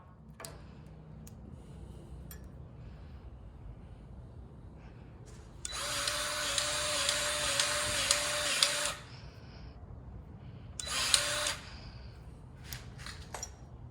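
A Milwaukee power tool whines loudly for about three seconds while removing a bolt from a Jeep, stops, then gives a second short burst, with faint ticking and clicks of tools before and after.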